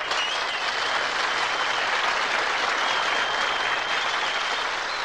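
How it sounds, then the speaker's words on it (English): Studio audience applause on a comedy record fills the whole stretch, a thick, even roar of many hands clapping at close range without any speech on top. "Well, where's that applause coming from?"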